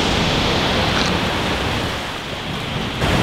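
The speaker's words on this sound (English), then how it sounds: "That is an incredible discharge." Dam discharge thunders in a dense, unbroken roar of churning water. It eases slightly near the end, then swells again, loud and close with no speech.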